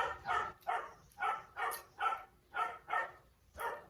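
A dog barks over and over at a steady pace, about eight evenly spaced barks, faint and somewhat distant.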